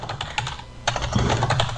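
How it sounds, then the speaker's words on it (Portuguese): Quick typing on a computer keyboard while entering names into an Excel spreadsheet, a close, crisp run of rapid key clicks that pauses briefly, then resumes in a denser burst. "vamos digitar novamente algumas coisas aqui"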